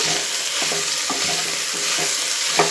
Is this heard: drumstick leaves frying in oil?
yes